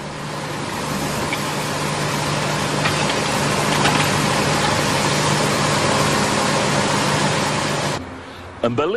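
A giant compost turner machine mixing compost heaps, a loud steady mechanical engine drone running throughout before cutting off abruptly near the end.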